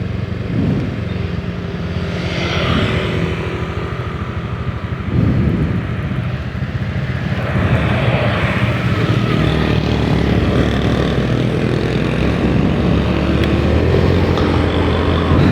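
A motorcycle rolls slowly past on a road at night, its engine a steady, loud drone with a broad rumble that swells and fades a little as it goes by.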